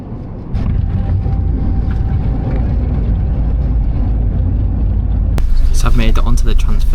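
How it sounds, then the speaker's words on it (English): A Flybus airport transfer bus in Iceland drives along with a loud, steady low engine rumble and road noise filling the interior, and a brighter rattle or clatter rises near the end. "I've made it onto the transfer, and I'm doing it with Flybus"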